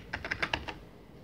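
Fingers type on a computer keyboard in about six quick, light keystrokes, close and fairly quiet, then fall silent.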